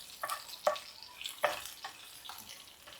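Upma ingredients fry quietly in a pan while a spoon scrapes and stirs in several distinct strokes, each scrape standing out above a soft sizzle; close, no talking.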